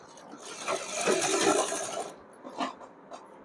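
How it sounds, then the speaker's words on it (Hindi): A sewing machine stitches the double-folded hem of a small doll's dress, a steady whirring run of about a second and a half, then brief short bursts as the stitching stops and restarts, close and fairly quiet with no talk. "यहाँ पर मैं सिलाई लगाऊंगी इस तरीके से"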